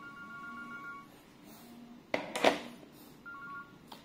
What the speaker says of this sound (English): Redial the last dial number.